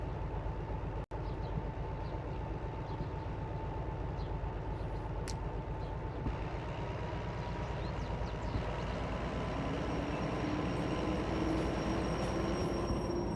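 A train braking in the video game Derail Valley: a steady rumble carries on throughout, with a faint metallic brake squeal creeping in toward the end and one brief click early on.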